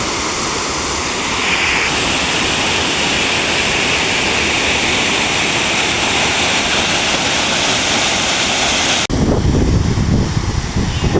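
Steady, loud rushing water from a stream at Kharghar dam fills the whole recording, a broad roaring wash that shifts to a lower, more turbulent churn near the end.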